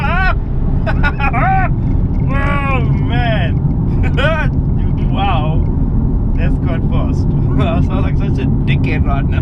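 A BMW M4 Competition pulls hard with a loud, steady low engine roar that runs throughout, while excited exclamations from inside the car break in over it.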